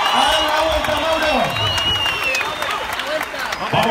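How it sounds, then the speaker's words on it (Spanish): Crowd applause and cheering for cyclist Mauricio Ardila at a Medellín track cycling event, a loud sustained wash of clapping mixed with whoops and an announcer's voice talking over it. "el primer aplauso para Mauricio Ardila"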